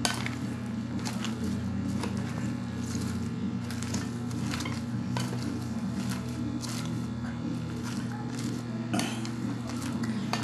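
Tofu and pork being mixed with seasoning for Kapampangan tokwa't baboy: steady clinks and scrapes of a utensil against a bowl, soft and continuous, with a low background hum throughout.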